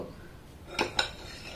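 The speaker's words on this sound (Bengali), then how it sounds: "একটা হাতা নিয়েছি একটা অন্য একটা পাত্র নিয়েছি এখান থেকে কিছুটা ব্যাটার আমি উঠিয়ে নেব" Two quick, bright clinks of a ladle knocking against a bowl while cake batter is scooped out, close and distinct over a quiet room.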